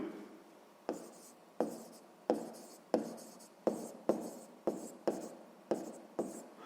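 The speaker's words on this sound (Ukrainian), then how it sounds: "Записуємо за умовою." Pen or chalk strokes writing out a math equation, a series of about a dozen short scratchy strokes in an uneven rhythm, close and fairly quiet.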